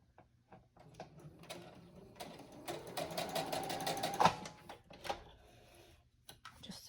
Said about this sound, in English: So I'm just gonna sew these on a straight stitch right there.